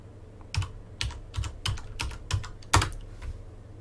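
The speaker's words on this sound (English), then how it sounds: "I want to type in single as an argument" Keystrokes on a computer keyboard while entering a boot option in the GRUB menu, about eight distinct clicks in an uneven rhythm with one heavier press near the end, close and clear with no talking.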